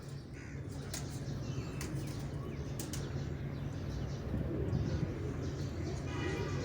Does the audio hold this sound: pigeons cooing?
yes